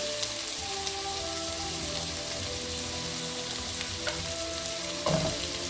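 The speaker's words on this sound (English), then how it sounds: "Give it a quick stir. It's on high heat." Broccoli and sweet corn stir-frying on high heat for firecracker prawns, a dense steady sizzle like rain on a surface with a brief stirring clatter near the end, close and without speech.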